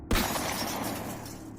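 A glass door pane shatters from a gunshot in one sudden loud crash, and a bright spray of shards keeps tinkling and hissing for over a second as it fades.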